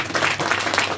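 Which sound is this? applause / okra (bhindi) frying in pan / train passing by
applause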